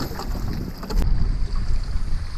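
Wind buffets the microphone while water splashes and rushes past a fast-moving sport catamaran hull slaloming through a narrow channel, loud and close, with no one speaking.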